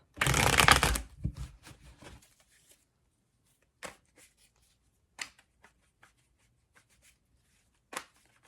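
Tarot cards are shuffled in a dense riffling burst, then a few scattered soft card taps and flicks follow at irregular intervals in a quiet room.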